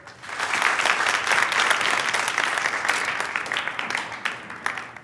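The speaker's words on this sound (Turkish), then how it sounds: "Züleyha Yaman'ı alkışlarınızla huzurlarınıza davet etmek istiyorum" An audience at a memorial gathering in Çukurova breaks into sustained applause, a dense, steady wall of clapping lasting the whole stretch without letting up.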